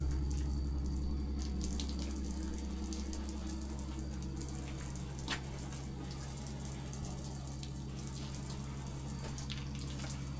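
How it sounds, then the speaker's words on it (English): Steady running water from a shower in an off-grid remote cabin, a continuous close hiss with a low hum underneath, no talk. "We're going to turn the water off, stop wasting water."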